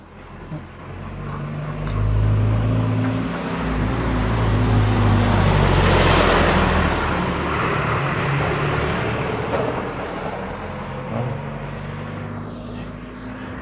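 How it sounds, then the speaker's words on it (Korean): Neighborhood garbage truck driving along a street near Horyuji in Japan, a steady engine rumble that swells as it passes close and then fades away over several seconds. "동네 쓰레기차는 그냥 막 지나가네요."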